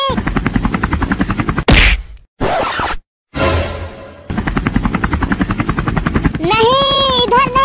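A cartoon helicopter flies past with a loud, rhythmic rotor chop that pulses steadily, broken by swooshing whooshes and a couple of abrupt silent gaps before the chopping resumes.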